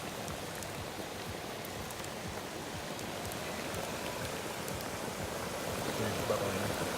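A hot outdoor campfire doused with about five gallons of water, hissing and bubbling in a steady dense wash of sizzle, with faint voices in the background.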